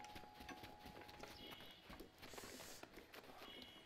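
Horse hooves clip-clop steadily in The Legend of Zelda: Breath of the Wild, a quick, fairly close rhythmic patter that continues through the whole stretch with game ambience behind it.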